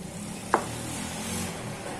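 Chicken curry is stirred in a pot, giving a faint, soft scrape with a brief clink of the utensil early on over a quiet, steady background sizzle; no one speaks.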